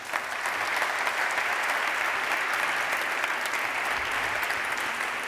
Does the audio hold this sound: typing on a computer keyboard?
no